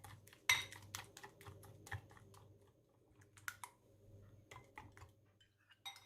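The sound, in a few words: whisking ingredients with salt, pepper and mixed herbs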